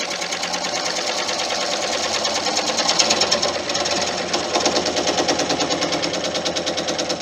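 A wood lathe turns a tenon on 5,000-year-old Irish bog oak: a steady, close, rhythmic chatter as the tool meets the spinning wood, with a fast pulsing beat that continues throughout and no talking.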